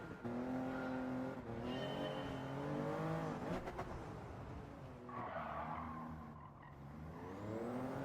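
A race car in the Gran Turismo 7 racing game howls through a corner, its engine pitch sweeping up and down while the tyres squeal and skid continuously, loud and steady without speech.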